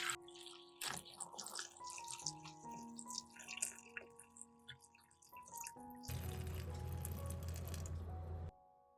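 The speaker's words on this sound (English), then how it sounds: "Pour water over garlic." Water pours over garlic cloves in a pot for pickling. Small drips and clinks come first, then a steady, rushing pour for a couple of seconds before it stops, close by.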